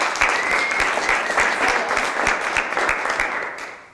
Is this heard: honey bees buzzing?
no